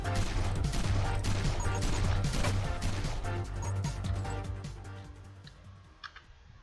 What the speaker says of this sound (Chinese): 哇，这个桶会爆炸啊！